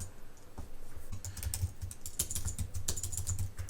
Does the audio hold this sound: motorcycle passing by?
no